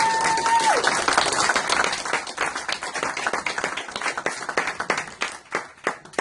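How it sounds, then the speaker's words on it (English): Wedding guests applaud the newly joined couple, Freya and Scott, with a dense, steady round of clapping from the crowd lasting several seconds, a brief tone sounding at the start. "can you give them a round of applause?"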